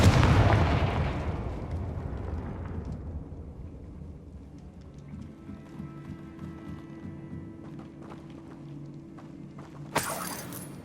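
A Confringo explosive spell goes off in Hogwarts Legacy, a loud booming blast that slowly rolls away into a low rumble, with a steady hum beneath and a short sharp crack near the end.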